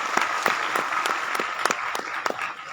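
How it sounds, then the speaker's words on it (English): An audience at the inauguration of the Science Film Festival of India in Goa claps together, a lively round of applause with individual sharp claps standing out over the general patter. "So give him clap."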